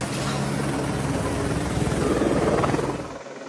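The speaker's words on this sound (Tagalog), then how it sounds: "2 helicopter ng pulisya ang namataang lumipad sa ibabaw ng compound" Police helicopter flying over a compound, a steady loud rotor drone with broadband whine filling the whole stretch before easing slightly near the end.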